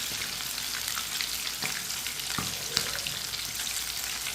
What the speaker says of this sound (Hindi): चिकन को अच्छी तरह फ्राई करना है।